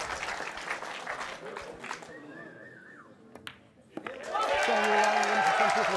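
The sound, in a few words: pool match audience cheering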